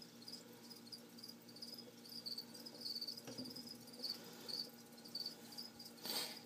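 A feeder cricket in a tarantula enclosure chirps in short, high, regular trills, repeating steadily and fairly close for several seconds with no one talking.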